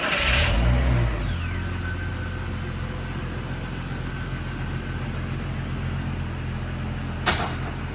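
A 1999 Jeep Cherokee 4x4 engine cranks and fires with a brief loud burst, then settles into a smooth, steady idle hum with a short sharp noise near the end.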